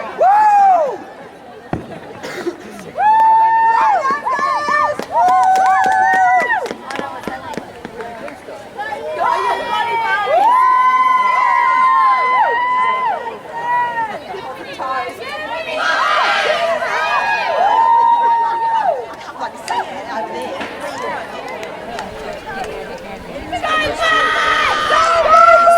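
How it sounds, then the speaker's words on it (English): Energetic crowd at a night-time Glenelg vs Brighton women's State League soccer grand final, with continuous loud chatter, excited shouts, calls and bursts of cheering, sustained and close throughout. "Bit of an energetic crowd that we have here tonight."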